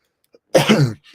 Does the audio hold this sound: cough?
yes